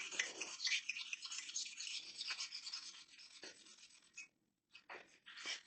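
Close, dry scratchy rubbing of 400 grit sandpaper, old and worn, on a pitted, scratched motorcycle engine case, in quick back-and-forth strokes that pause briefly before resuming near the end.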